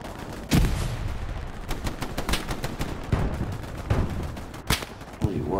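Artillery bombardment in the World War II shooter game Hell Let Loose: repeated loud booming blasts at irregular intervals over a rumbling battlefield, with crackling gunfire between impacts.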